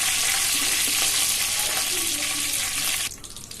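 Curry leaves and tomato thokku sizzle loudly in hot oil while being stirred in a pan, a dense continuous frying hiss that cuts off abruptly near the end and leaves a quieter background.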